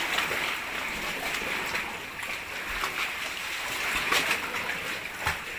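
Sea waves on a clear tropical coast gain strength, a steady broadband wash of surf and water movement with occasional louder splashes, continuous and fairly near throughout.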